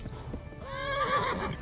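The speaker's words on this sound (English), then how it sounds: "Dude, horse!" A horse in the medieval video game Kingdom Come Deliverance gives a loud, close neigh that rises and wavers, with hoof clatter underneath.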